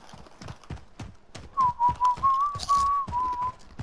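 Someone whistles a short wavering tune over a steady rhythmic clip-clop of hooves, the whistling starting midway and carrying clearly to the end.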